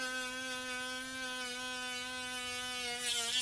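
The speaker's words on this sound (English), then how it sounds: "We got a brand new wool pad on the mini grinder, and we're going to start polishing." A mini grinder fitted with a new wool pad polishes metal, producing a steady high-pitched motorized whine with a buzzing harmonic drone, close and continuous, swelling slightly in pitch and loudness at the end.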